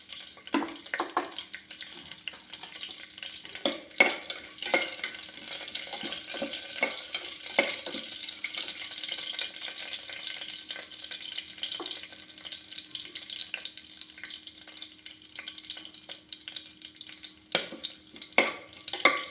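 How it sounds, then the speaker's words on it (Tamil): Onions frying in oil in a pan after fennel seeds have popped, a soft continuous sizzle with intermittent scraping stirs, fairly quiet and close, no talking. "இப்போ நம்ம வெங்காயத்தை போட்டுக்கலாம் வெங்காயம் வதங்கட்டும்"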